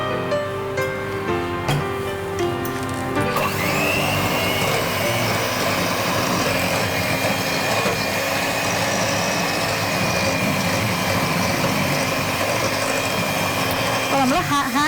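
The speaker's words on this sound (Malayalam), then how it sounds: "നമ്മൾ ഹാൻഡ് ബ്ലെൻഡർ ഉപയോഗിച്ചിട്ടാണ് ഇങ്ങനെ നന്നായിട്ട് ബീറ്റ് ചെയ്തെടുക്കുക, പതപ്പിച്ചെടുക്കുക." A hand blender whirs steadily as it beats an icing sugar mixture, its continuous motor drone running loud and close for the whole stretch after a few brief opening sounds.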